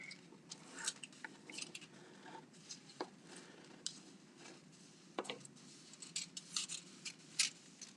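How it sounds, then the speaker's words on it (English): Scissors snip through fabric to cut out a rectangle at a home sewing table, giving quiet irregular clicks and crisp cuts close by, with no talk. "So we're going to cut it out."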